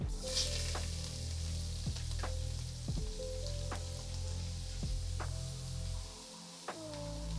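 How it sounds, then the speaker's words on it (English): Onions sauté in rendered bacon fat in a pot for clam chowder, producing a continuous sizzle with scattered pops and clicks over a faint tonal hum, nearby and with no talking. "we're gonna remove the bacon, leave the fat, to saute the onions"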